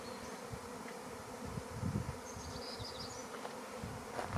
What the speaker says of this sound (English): there's a swarm of bees in the raspberry patch. I'm sure you can hear them